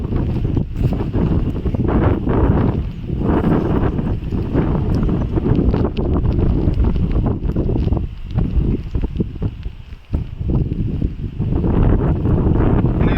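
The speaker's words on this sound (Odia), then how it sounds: "ପବନର ବେଗ ଅଛି, ତା ସାଙ୍ଗରେ ବର୍ଷା ବି ଜୋର ହେଉଛି" Strong wind from a storm, with heavy rain while out fishing by muddy ground, makes a loud, continuous roaring buffet against the microphone that gusts and dips briefly without any pause throughout.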